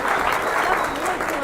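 Crowd applause at a political rally in Santos, a dense, steady clatter of many hands clapping together, close and continuous for the whole moment.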